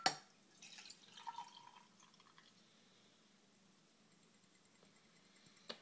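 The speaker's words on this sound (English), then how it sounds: "now I'm just going to transfer this to a clean beaker" Pale yellow liquid is poured into a clean laboratory beaker: a short, quiet splash and trickle near the start, a few faint drips, then near silence.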